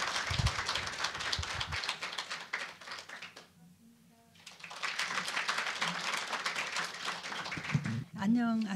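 An audience at a Korea Gas Corporation forum claps to welcome the company's president, a sustained patter of applause that dips briefly to near silence midway, then resumes before a voice begins.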